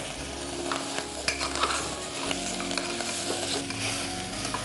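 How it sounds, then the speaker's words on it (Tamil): Potato pieces frying in a pan, a continuous close sizzle with occasional stirring scrapes, steady and moderately loud with no talking. "இது 2 நிமிஷம் ஃப்ரை பண்ணணும்"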